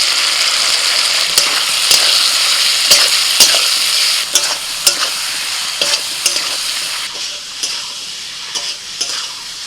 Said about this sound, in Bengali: সবজির সাথে মশলাটাকে 5 মিনিট কষিয়ে নিয়েছি